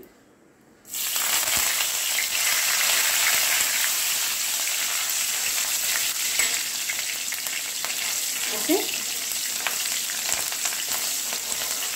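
Green chilies and curry leaves frying in hot oil for pakoda kadhi, a loud, steady, close sizzle that bursts in after a brief quiet start and continues without a break; a voice speaks one brief word.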